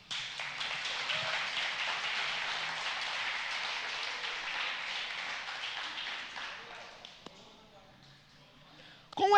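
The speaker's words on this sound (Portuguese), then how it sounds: "Aplauso para os dois aí." A church congregation at a Sunday celebration service applauds, steady dense clapping for several seconds that fades out, followed by a short burst of sound at the very end.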